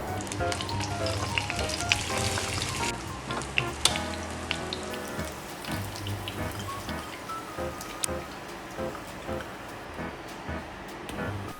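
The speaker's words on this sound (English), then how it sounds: "You can choose whether to fry, refry our tofu or not, your choice" Tofu sizzles and crackles in a hot pan of oil, a soft steady frying hiss dotted with small pops and spits that grows gentler toward the end, with no one talking.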